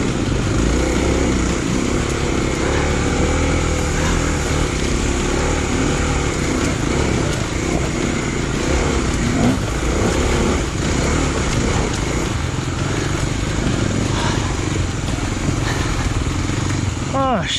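A Kawasaki KLX 250 dual sport motorcycle rides a single track trail, its engine droning steadily and loudly at close range with wind noise throughout.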